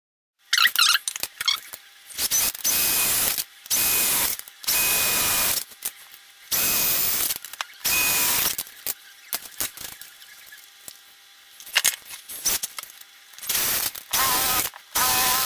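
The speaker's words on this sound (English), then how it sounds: "this is a tin after drilling" A power drill bores into a tin box being built into a sound amplifier, in a series of loud, harsh, grinding bursts separated by short silences, with metallic squeaks and rattles and no talking.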